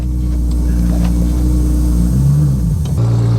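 Nissan Skyline R33 with a 700 bhp engine and a newly installed clutch, pulling forward slowly at low speed: a loud, steady engine rumble close by, with a brief rise in revs near the end.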